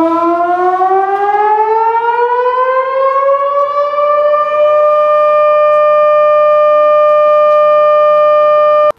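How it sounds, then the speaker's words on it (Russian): Civil defense warning siren sounding during a regional public alert system test, a loud wailing tone rising in pitch over the first four seconds and then holding steady, heard alone. "проверка готовности системы оповещения населения области с практической подачей единого сигнала оповещения"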